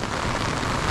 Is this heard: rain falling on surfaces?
yes